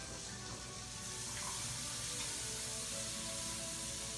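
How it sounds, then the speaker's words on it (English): White onions hit a pan of caramelized bacon and sizzle steadily, a soft, even frying hiss that swells slightly partway through, with no voices. "Got that bacon caramelized. Now I'm gonna add the onions to that."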